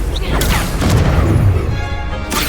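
A Confringo blasting spell erupts in Hogwarts Legacy, a loud, dense rumbling blast with sharp cracks at the start and end, set within a busy battle din.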